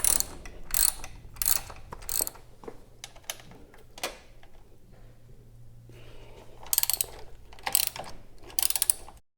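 An 8mm ratchet socket wrench clicks in quick bursts while bolts come off a Yamaha MT-07 motorcycle's rear fender, the sharp close ratcheting separated by pauses and small handling noises.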